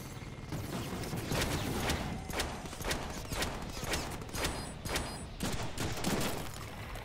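Rapid pistol gunfire in the Deadpool video game: a continuous rattling fusillade of repeated shots over a constant loud game din, with no talk.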